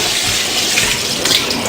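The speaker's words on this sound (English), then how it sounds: "we're going to rinse it under cold water" Cold tap water gushes steadily over a raw turkey in a sink, a continuous broadband hiss and splash at moderate level with no talking.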